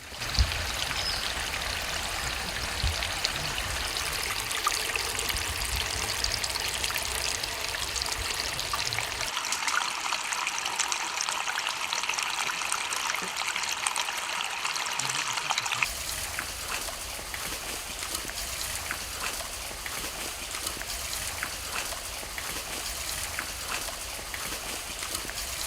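Water runs steadily through a cut bamboo channel carrying irrigation to betel leaf roots in a village, a continuous trickling stream with a brief quieter stretch in the middle before the flow resumes.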